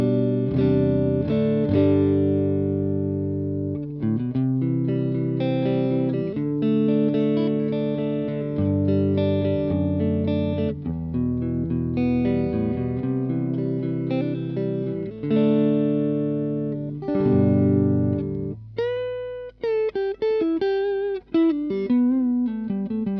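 Japanese 60s Telecaster through the clean channel of a Fender Super 60 valve amp: a continuous played passage of chords and single notes, bright and clear with light ringing sustain, loud and close with no talking.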